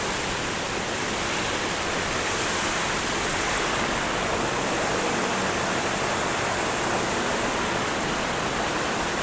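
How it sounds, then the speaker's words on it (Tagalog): A river swollen by rain rushes past with a strong current near a mahogany campsite, a steady, dense broadband roar that stays loud and unbroken throughout, with no voices over it. "At malakas ang agos."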